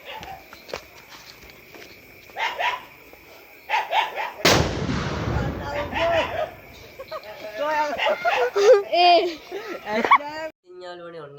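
Firecrackers set off by a group of friends during the new year festivities: a single sharp, loud blast, with more scattered pops nearby and people talking and shouting throughout.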